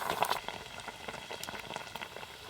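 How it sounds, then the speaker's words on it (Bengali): Shol (snakehead) fish curry bubbling in a covered pot over steady heat, a close, continuous busy patter of boiling liquid with small pops, moderately loud and with no voices. "এই যে চাপা দিয়ে মোটামুটি আর মিনিট 5 মতো ফুটিয়ে নিলেই হয়ে যাবে"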